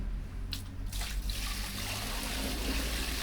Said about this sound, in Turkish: Şimdi ben bir de su döküyorum buraya.